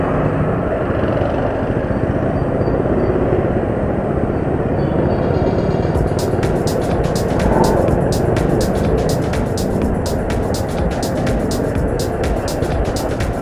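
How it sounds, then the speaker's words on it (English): Busy Bangalore street traffic from a scooter in motion, a steady dense roar of engines and wind throughout, with a faint rapid ticking appearing midway. "You can see Bangalore traffic."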